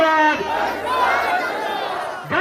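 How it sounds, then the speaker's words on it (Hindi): A rally crowd in Bihar chants the slogan "Jan Suraaj" in a loud, sustained roar of massed voices, swelling and surging together for a couple of seconds. "सब लोग हाथ उठाकर बड़ौदा के इस पावन धरती पर कहे जन सुराज, जन सुराज"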